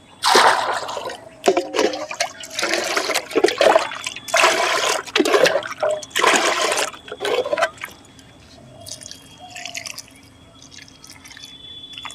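Water mixed with fungicide is poured onto the soil around a freshly transplanted grape plant. It splashes and trickles in repeated close bursts, then fades to faint dripping.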